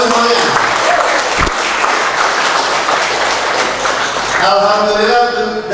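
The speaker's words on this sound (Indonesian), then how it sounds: "Tepuk tangan dulu semuanya." Audience members at a workshop and orientation session in Pringsewu, Lampung, clap in dense, sustained applause, loud and close, with voices briefly mixed in near the end.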